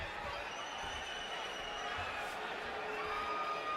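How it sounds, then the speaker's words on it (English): Boxing arena crowd at the Bradley vs Marquez fight, a steady dense roar of many voices chanting for Marquez, loud and continuous throughout with no break. "Crowd is chanting Marquez, Marquez, Marquez, trying to get their star started early."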